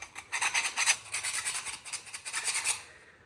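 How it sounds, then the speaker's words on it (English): A hand file rasps across small metal parts as they are touched up before welding. The strokes are steady and repeated back and forth at close range with no talking. "So I'm just touching them up with a file"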